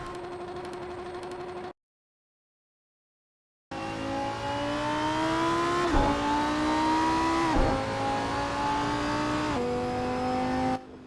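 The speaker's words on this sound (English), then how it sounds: "I hear the sound of the gearing, the clutch and all that" A Lamborghini Huracan engine in a VR driving game mod drones and climbs in pitch, with a few abrupt drops at gear shifts, after a short stretch of engine noise and then silence.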